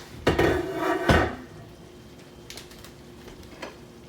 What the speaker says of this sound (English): I'm gonna put this lid over here.